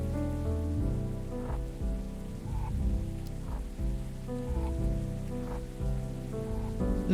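Steady rain patters in the Necrobarista video game beneath soft music with repeating tones, a continuous gentle wash with no talking.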